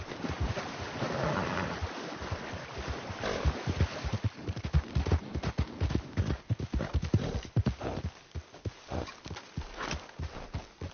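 Galloping horse hooves pound in a rapid, driving rhythm in Red Dead Redemption 2, loud and close, over a wash of wind and ambient noise that thins toward the end.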